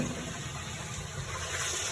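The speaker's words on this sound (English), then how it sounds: "Now you can hear the water." A Whirlpool washing machine filling with water, a steady low hum and faint rushing flow, quiet and continuous with no speech.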